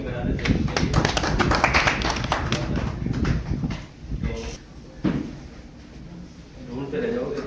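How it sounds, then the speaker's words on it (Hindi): Audience applause for the chief guest at a hospital launch event for a journalists' health security scheme: dense clapping fills the opening seconds, then thins out as voices carry on over the crowd. "जोरदार ताली बजा देते हैं उनके लिए।"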